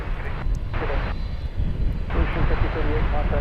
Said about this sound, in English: our daily FedEx flight, or nightly FedEx flight that comes in from Alliance Airport in Fort Worth